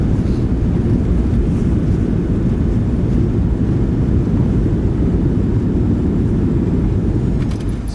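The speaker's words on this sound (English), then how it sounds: "Nose down gently. Reversers are out. Decelerating." Thrust reversers roaring on a PMDG 737-700 just after touchdown in a flight simulator, a loud, sustained low-pitched engine rumble that holds steady and begins easing slightly at the very end.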